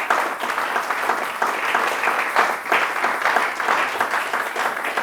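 A church congregation applauding, a dense sustained round of clapping from many hands that swells and fades slightly but keeps going throughout, with a few scattered voices beneath.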